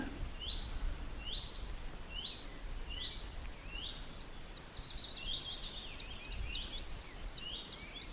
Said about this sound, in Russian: Иду, слушаю пение птиц.